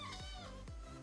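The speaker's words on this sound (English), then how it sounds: "So if you hear my cat in the background, I'm so sorry." A pet cat meows in the background indoors, several short wavering calls repeating over about a second, fairly close and loud with no talk over them.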